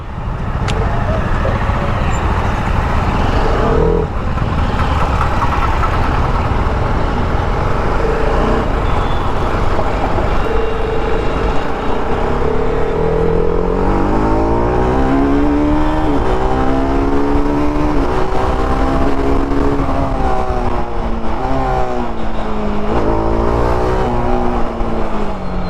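A 2024 TVS RR310 motorcycle rides along a highway near Bengaluru, its engine loud and constant under heavy wind rush, pitch sweeping upward in repeated climbs as it accelerates through the gears.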